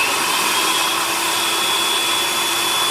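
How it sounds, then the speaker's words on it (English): A kitchen appliance, likely a food processor, purees black beans with a mushroom and onion mixture for vegan burgers, giving a steady, loud, close motor whir that holds evenly throughout with no talking. "add my mushroom and onion mixture to that and kind of puree it down as well"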